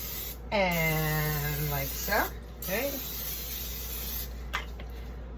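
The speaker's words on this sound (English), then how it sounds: "We're going to spray our crock pot with our vegetable oil" Vegetable oil cooking spray hisses into a crock pot in a thin, steady high hiss broken by short gaps, running under a person talking.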